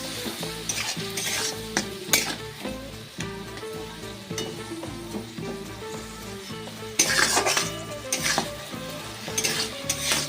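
Poppy seed paste with punka greens and a splash of water is stirred in a pan over a high gas flame, a steady sizzle under repeated scraping and clinking of a spoon, close and continuous.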